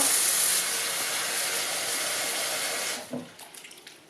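Water poured from a tap onto red cabbage in a container in a home kitchen, a steady, fairly loud rushing stream lasting about three seconds before it stops, followed by a few faint clinks and handling sounds.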